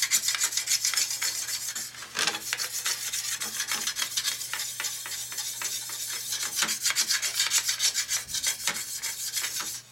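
A hand tool scrapes and rasps steadily at the holes of a steel brake rotor for a 1988 Harley FXR, a close, continuous gritty rubbing with rhythmic strokes and no talking.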